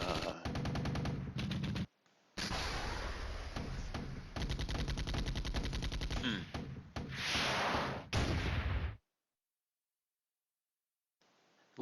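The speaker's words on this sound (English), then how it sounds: "Well, the artillery fired, and I'm not real sure where it hit." Artillery and rapid gunfire from the Flashpoint Campaigns: Red Storm wargame, a sustained loud barrage of dense rattling bursts with brief gaps, ending abruptly into silence after about nine seconds.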